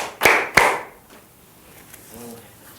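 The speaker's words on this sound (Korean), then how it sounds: "박수 3번 시작" Children in a Sunday school class clap in unison: two sharp, loud claps close together, then a much fainter third, followed by a brief quiet voice.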